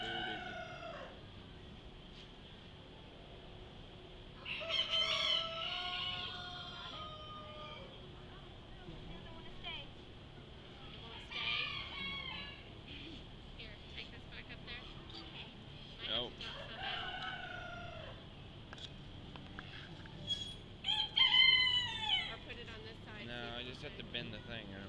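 Chickens in a poultry barn at a county fair, clucking and crowing in scattered bursts against a steady murmur of indoor crowd noise and voices.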